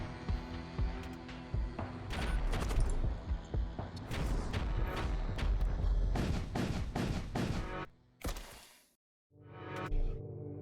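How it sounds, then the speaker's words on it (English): Grenade launcher fire and explosions in the Void War video game: a dense run of loud booms and sharp blasts in rapid succession, several crashing impacts, then a short lull and a final burst. "Ooh, a grenade launcher."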